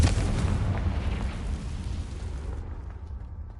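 A loud fiery blast from the Confringo spell in Hogwarts Legacy, a deep rumbling explosion that starts at full force and slowly decays, heard alone without talk.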